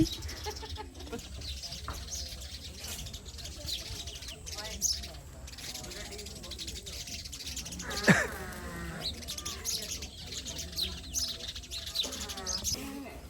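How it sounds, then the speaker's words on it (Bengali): A flock of sparrows around their nests chirps in quick, scattered tweets at moderate distance, with people talking intermittently over the birds throughout. "এত এত শালিক পাখি না শালিক না এগুলো মনে হয় চড়ুই পাখি"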